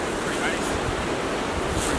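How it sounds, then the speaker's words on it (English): Strong wind on the Nova Scotia coast, a constant loud roar of gusts and surf-like rushing that buffets the microphone without a break. "Is the wind still bad?"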